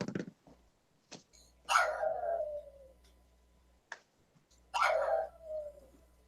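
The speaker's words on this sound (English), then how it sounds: "Sounds like it's mad and it's whining at the same time." A young female puppy lets out short yelps and then two long, wavering whine-barks a few seconds apart, close and fairly loud over a steady low hum.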